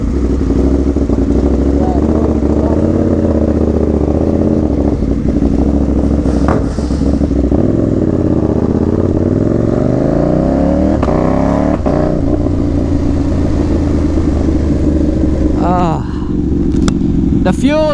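Yamaha XJ6N and KTM Duke 790 motorcycles, the engines loud and close, idling and revving with rising and falling pitch through the gears, with wind noise throughout and a brief speaking voice.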